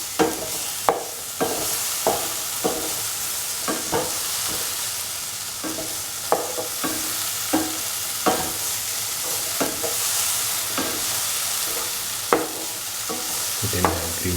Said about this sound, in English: Put in the tomatoes and salt and mix.